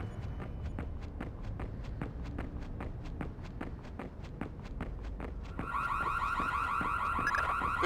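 An alarm in the stealth video game Splinter Cell Chaos Theory starts partway through, a loud, steady electronic warbling tone layered over a regular rhythm of footsteps that carries on throughout.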